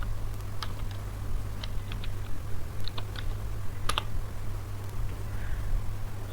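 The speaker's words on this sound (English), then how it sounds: "Now I will type docker starts." Keystrokes of a docker command typed on a computer keyboard: sparse, irregular clicks at close range over a steady low hum, with no talking.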